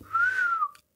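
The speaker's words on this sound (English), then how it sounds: "Morris did teach me how to wolf whistle." A wolf whistle by a person: one sustained, rising-then-falling whistled tone lasting under a second, loud and clear with no talking.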